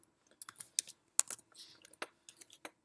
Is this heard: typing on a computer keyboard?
yes